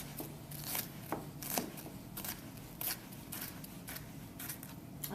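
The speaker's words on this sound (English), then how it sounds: "you will continue to slice the onion in the same manner by cupping your fingers and the rocking motion of your hand with the knife" A knife slices and dices an onion on a cutting board with a rocking motion, giving a steady run of crisp, close chopping taps with no talking.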